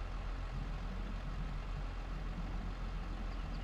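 A low, steady tractor engine rumble idles continuously in Farming Simulator 22, a constant droning hum with no breaks.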